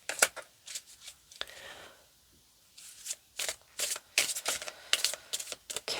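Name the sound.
shuffling cards for a card reading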